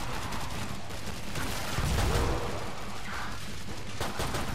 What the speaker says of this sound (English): That's why I have a grenade launcher.